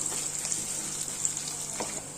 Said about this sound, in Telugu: ఈ మిరపకాయలు, ఈ కరివేపాకు ఇవన్నీ బాగా వేగాలి.